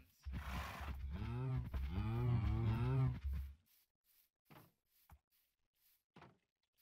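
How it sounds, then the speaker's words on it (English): Cows lowing in the Minecraft video game, a long drawn-out moo followed by several faint, short knocks and clicks of game sounds. "Cows."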